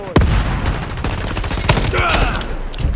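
A-3 Pilum assault rifle firing in the PvP shooter Shatterline, a loud close burst of rapid shots opening sharply, then scattered shots and gameplay clatter continuing throughout.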